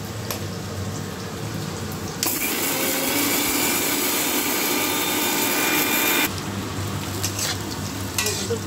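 An electric grinder dry-grinds spices including poppy seeds, its loud, steady whirring roar running for about four seconds in the middle. Quieter kitchen background noise comes before and after, with no talking.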